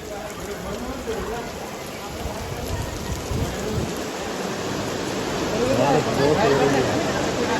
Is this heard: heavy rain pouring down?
yes